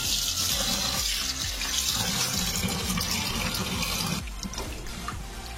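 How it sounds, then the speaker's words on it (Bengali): Bhetki fish being washed under a running kitchen tap, with a steady loud splash of water into a sink that eases slightly toward the end; no talking. "মাছটা আমি ভালো করে ধুয়ে নেব।"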